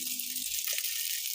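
Pasta and mushrooms with balsamic glaze sizzle in a single pot in a boat galley, giving a faint, steady hiss of frying throughout a brief moment with no voices.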